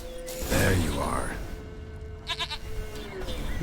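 A goat bleats in The Witcher 3, with a short, wavering, nasal cry standing out near the middle of the clip. Game voices talk over the surrounding ambience before and after it.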